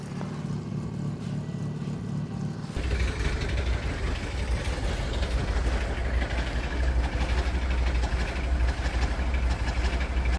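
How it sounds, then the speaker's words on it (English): A truck engine with a cylinder misfire idles with a low, steady rumble, its rhythm slightly uneven and shaky, running continuously without voices. "It's definitely got a bad misfire on one of those cylinders."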